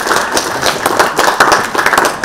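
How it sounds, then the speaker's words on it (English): Audience applause for speakers at a Netherlands country session at World Food India 2023, steady dense clapping from a crowd filling the whole stretch at even loudness. "a warm applause for these fantastic speakers"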